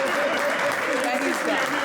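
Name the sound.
audience applause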